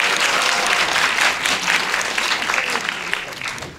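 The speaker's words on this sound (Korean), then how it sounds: "박수 한번 주시죠." Audience applause at a film premiere stage greeting, a dense, loud wash of clapping from a large crowd, close and continuous throughout, gradually easing toward the end.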